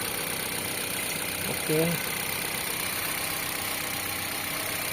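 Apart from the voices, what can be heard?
Mitsubishi Xpander 2024 1500cc four-cylinder engine idling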